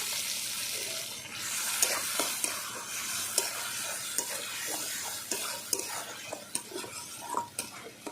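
Chopped tomato frying in hot mustard oil for a spicy stingray curry, with a continuous sizzle under frequent clinks and scrapes of a spoon stirring against the pan, close and quiet, no speech.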